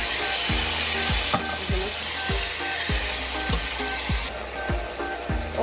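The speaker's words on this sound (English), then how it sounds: "So I'm gonna go ahead and add the oxtail to the pot." Pieces of Jamaican oxtail sizzle loudly in oil in a pressure cooker pot. Each new piece sets off a fresh burst of frying, repeating roughly every half second, with steady crackling underneath.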